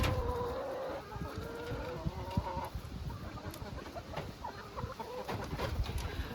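Marans hens on a small farm cluck and murmur continuously, several birds close by with overlapping soft calls and scratchy movement noise throughout.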